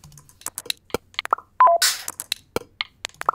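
Short, choppy electronic blips and beeps repeat in a looping pattern with one brief burst of noise, giving a mechanical, robotic feel.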